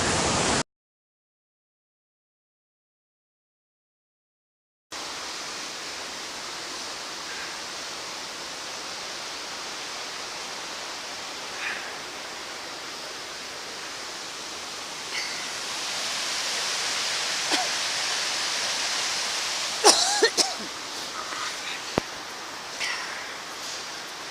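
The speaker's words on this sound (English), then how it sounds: "And that is Tyndall Creek at 6:30 in the morning." Tyndall Creek rushing at dawn, a steady broadband roar of fast-flowing water that carries on without a break after a short silent gap, with a few faint knocks and rustles over it.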